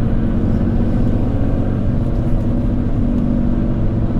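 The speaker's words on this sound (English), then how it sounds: "the tires are incredibly loud, which means they're probably very cheap tires" Cabin of an R53 Mini Cooper on the move, with a loud, constant low roar of cheap, noisy tires on the road filling the whole stretch, no voices.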